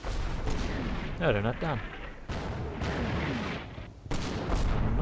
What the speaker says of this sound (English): I think they're just mortars